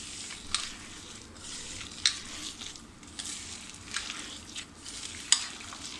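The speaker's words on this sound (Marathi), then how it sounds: "आता हे सगळं आपल्याला हातानेच अगदी एकजीव करून घ्यायचं आहे." Chana dal and moong dal bhaji batter mixed by hand, giving soft wet squishing and stirring sounds with a few sharper clicks, moderately quiet and continuous with no talk.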